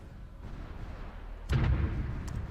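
Artillery bombardment from the strategy game Supreme Ruler Ultimate: a low steady rumble that jumps into a louder burst of booms halfway through, continuing as dense rolling impacts.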